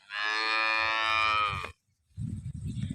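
A single cow moos loudly at a cattle market in Tharad taluka, Banaskantha, one long drawn-out low call lasting over a second, followed after a short pause by a jumble of background livestock and crowd noise.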